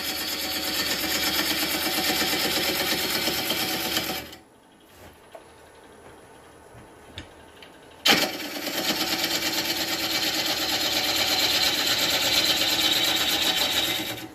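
A wood lathe cutting green wood into shavings runs with a steady, buzzing machine whir, drops to near silence for about four seconds with a few small knocks, then starts up again at full level.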